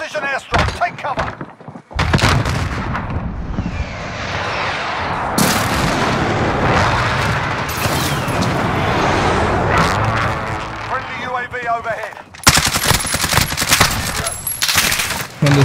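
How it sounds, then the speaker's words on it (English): A precision airstrike in a first-person shooter video game lands as a dense barrage of heavy booming explosions mixed with gunfire, loud and close, while a voice talks over the din. "Enemy precision airstrike, take cover."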